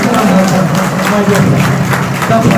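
A crowd claps steadily throughout, a dense wash of applause filling the space.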